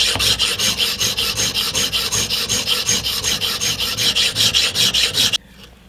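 Scissors blade drawn across a sharpening stone at a fixed angle in rhythmic strokes, a steady close raspy grinding that repeats about twice a second and then stops abruptly.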